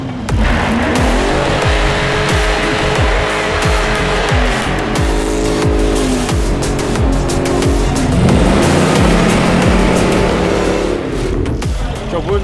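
A Mercedes G63 AMG and a Jeep Gladiator 5.7 launch side by side from a standing start, engines roaring loudly with tire squeal as they pull away, the heavy drone continuing up close throughout.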